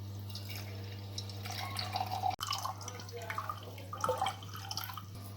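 Freshly made apple juice is strained through a sieve into a glass. It gives a soft, faint trickle and scattered drips over a steady low background hum.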